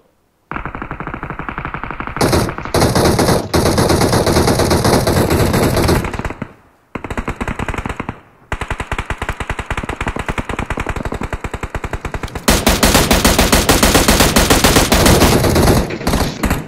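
Long bursts of rapid automatic fire in a video game, aimed at a buggy, rattle loudly and almost without pause, broken by brief gaps and a heavier, denser stretch near the end.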